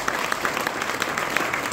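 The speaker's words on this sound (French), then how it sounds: "Can you applaud the Lord?" A church congregation claps steadily in applause at a French-language seminar with a pastor, a dense, continuous patter of many hands filling the room.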